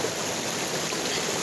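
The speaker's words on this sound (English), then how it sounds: "Melvin wanted to do the creek, so we came from over there with the creek" Creek water of snowmelt flows steadily beside a hiking trail, a dense, even rushing wash close by with no voices.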